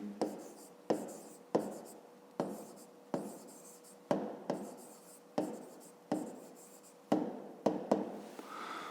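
Pen strokes on paper while math is written out for a fifth-grade exercise, close and fairly quiet, coming in a regular run of short scratchy bursts about every second.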